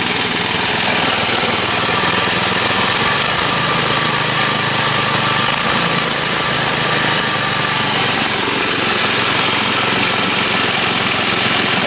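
A go-kart engine runs steadily and loudly throughout, a continuous buzzing drone with a slight vibration, left idling for a while during repairs.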